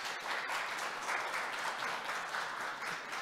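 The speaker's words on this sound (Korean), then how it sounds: "다시 한번 큰 박수 부탁드립니다" Audience applause at an international earth jurisprudence law conference, a dense steady wash of many hands clapping that carries through the whole stretch at even loudness with no voices over it.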